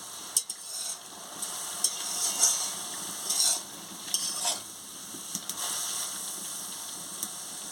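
Shredded cabbage is stir-fried in a pan, with a continuous sizzle broken by repeated scraping and stirring strokes at an uneven rhythm, close and fairly loud, with no voices.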